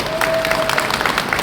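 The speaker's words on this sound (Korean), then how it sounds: "박수 한번 치십시오" An audience at a political book concert breaks into steady applause, a brisk dense patter of many hands clapping at moderate volume throughout, with faint crowd murmur beneath.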